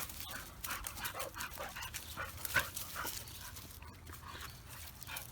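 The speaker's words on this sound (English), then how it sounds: "I hear him panting." A Dogo Argentino puppy pants in quick, steady breaths close by, the rhythmic huffing continuing throughout with no talking.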